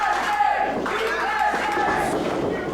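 A wrestling arena crowd roars and chants in a sustained, loud wave during a singles match, with an announcer's voice speaking over the noise.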